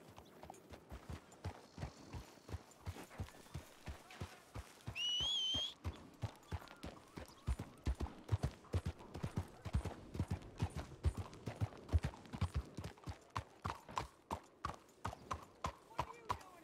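Steady, rhythmic video-game horse hoof clip-clops at a walking pace, close and clear, with a brief whistle-like tone partway through.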